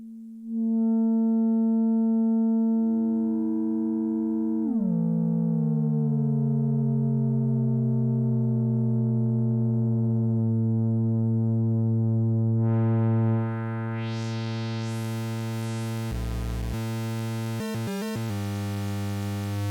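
Behringer Crave synthesizer using its LFO as a second oscillator, a steady droning buzzy tone that bends downward in pitch and settles, then brighter noisy chirps and sweeps enter near the end, with no voice.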